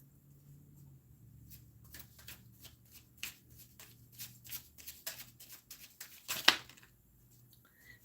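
Tarot cards shuffled by hand in soft, papery riffles and slaps, close up in a quiet room, building to a sharper burst near the end.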